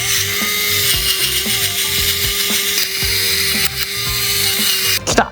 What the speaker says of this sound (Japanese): この付属のこのネジをここに埋め込む。